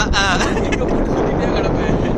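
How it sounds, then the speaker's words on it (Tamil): Strong sea wind near Rameswaram on a fishing outing roars steadily and loudly across the microphone, with a voice briefly heard near the start. "காற்று அதிகமாக இருக்கு. நான் பேசுறது எவ்வளோ கிளியராக கேட்குன்னு தெரியல"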